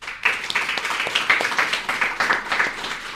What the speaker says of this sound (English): please join me in giving our speakers and all our online participants a warm round of applause